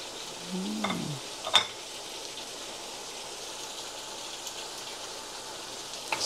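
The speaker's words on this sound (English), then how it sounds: "Now I add on the lemongrass and the chili." Lemongrass and chili fry in a pan with a faint, steady sizzle and a couple of brief clinks from stirring, quiet and without talk.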